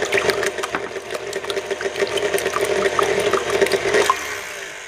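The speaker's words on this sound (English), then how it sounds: "I'm gonna go ahead and get started whisking up these eggs" Eggs whisked in a bowl with seasonings, a rapid, regular clicking and sloshing of the whisk that carries on steadily throughout.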